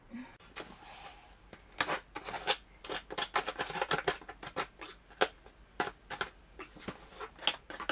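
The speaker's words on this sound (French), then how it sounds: "Je vais unboxer ce colis avec ces ciseaux" Scissors cut open a book parcel at close range, giving crisp snips and rustling tears of cardboard and packing in an irregular series of sharp bursts, with no talk.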